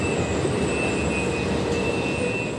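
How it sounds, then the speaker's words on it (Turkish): A metro train rumbles steadily through Üçyol underground metro station in İzmir, with continuous rail noise and a high, thin wheel squeal running throughout. "Evet, trenin de sesi geliyor."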